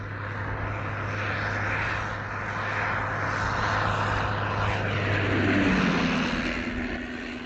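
A World War I Sopwith Camel fighter's rotary engine drones steadily and loudly throughout, a continuous propeller-plane roar with a low hum that fades partway before a rising tone enters near the end.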